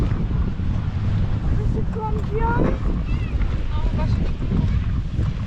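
Wind buffets the microphone at a Baltic beach, a loud steady rumble with gusts, while people talk faintly in the background.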